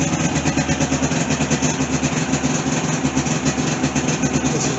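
A 2022 Polaris 550 snowmobile engine with a factory tuned exhaust idles steadily with a throaty, pulsing exhaust note, loud and close, no talking.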